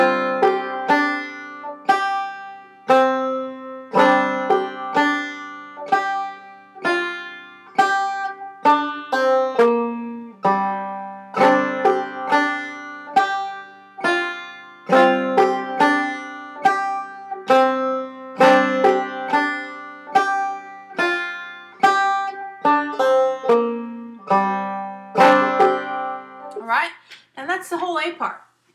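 A clawhammer banjo plays the old-time tune Cluck Old Hen at a slow practice tempo, each plucked note and brushed strum ringing out clearly and close, in a steady repeating rhythm with brief pauses, and no talking.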